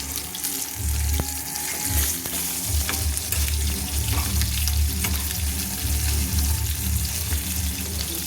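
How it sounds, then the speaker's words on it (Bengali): Katla fish slices fry in a pan with a steady, loud, continuous sizzle and crackle of hot oil, close up and alone, with no talking. "তো বন্ধুরা এইভাবে কিন্তু মাছের চাকাগুলো লাল লাল করে ভেজে নিতে হবে।"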